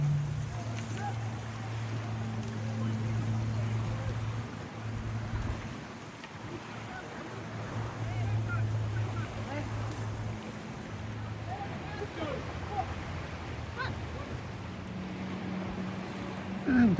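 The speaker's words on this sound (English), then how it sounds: "Another Coast Guard boat going past." A Coast Guard boat goes past in a harbour, its low engine drone rumbling steadily at moderate distance, swelling and easing slightly as it passes, with wind and water noise around it.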